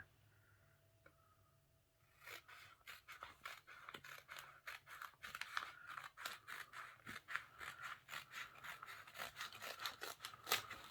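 Scissors snip through stickers in a Dollar Tree planner, giving a quick, close series of sharp crisp cuts after a short quiet start, with faint rustling of paper between the strokes.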